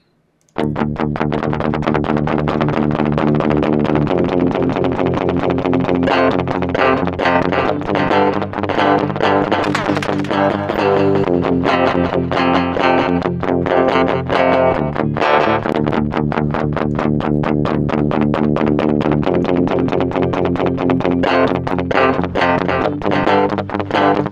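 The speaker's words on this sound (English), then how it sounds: "Okay, so that's delay right there." Dense, continuous electronic music played through a delay effect in Studio One's Pedalboard, with a distorted, effected tone, sustained and loud for the whole stretch, repeating echoes smearing the notes together.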